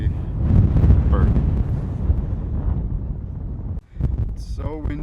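Strong wind buffets the microphone on the Berg Lake mountain trail near a glacier, a loud rumbling roar that gusts and briefly drops out before returning.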